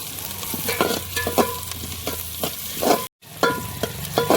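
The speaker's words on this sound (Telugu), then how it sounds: "అడుగంటకుండా మనం ఇలా కలుపుతూనే ఉండాలి." Onions and green chillies frying for bagara rice are stirred steadily in a pan, a continuous close sizzle punctuated by regular scraping strokes of the spoon, with one brief dropout near the end.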